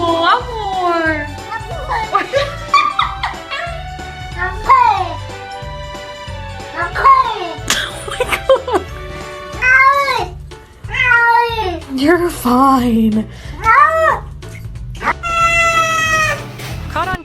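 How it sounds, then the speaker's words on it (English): A cat meows and yowls repeatedly at bath time, its cries loud and close, rising and falling. A person speaks soothingly over the wailing now and then. "this cat not only says hello but also cries for help"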